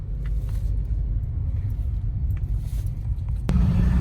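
Steady low road rumble fills a car cabin while driving, a deep continuous drone with a slight shift in tone near the end and no voices.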